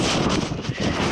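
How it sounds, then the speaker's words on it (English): Wind buffets the microphone at a campsite near Elko, a steady loud roaring rush with no clear breaks. "I'm not even sure if you guys can hear me on the wind"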